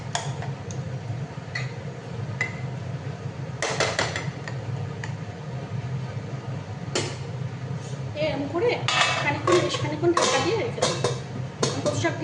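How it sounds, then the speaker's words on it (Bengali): Boiled taro leaves are mashed in a metal pan, making irregular scraping and knocking clatter that grows busier toward the end. A steady low hum runs underneath. "আর একটু ভালো করে কচু শাকটা মানে কী বলবো ম্যাশ হয়ে যাবে"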